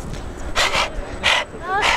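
A dog makes three or four short, breathy snorts or wheezing huffs, close and fairly loud, separated by brief pauses.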